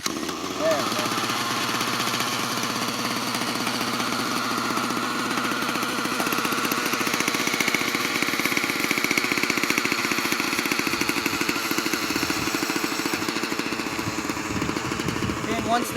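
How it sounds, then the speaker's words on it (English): A nitro RC helicopter engine idles steadily after starting, a loud, continuous buzzing drone with a dense rattling texture that holds nearly unchanged across the whole stretch. "Once the engine's idling, I usually let it sit and idle for about a good 30 seconds to a minute, let the motor get warm"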